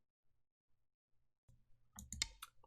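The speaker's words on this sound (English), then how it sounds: "Stop typing." Keys clatter on a computer keyboard during an online Go (Baduk) game: a few faint taps first, then a quick close burst of clicking keystrokes.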